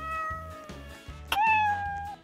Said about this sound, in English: It's a cat meowing.